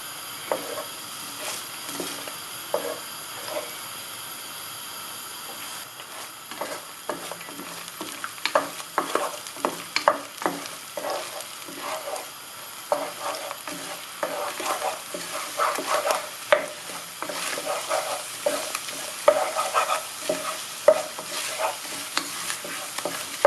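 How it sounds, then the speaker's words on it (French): Beaten eggs scrambling in a tablespoon of hot oil in a pan for fried rice, a soft continuous sizzle broken by repeated sharp scraping and stirring strokes that grow busier and louder toward the end. "on met 1 cuillère à soupe d'huile et puis verser les œufs et bien les mélanger jusqu'à ce que les œufs soient brouillés"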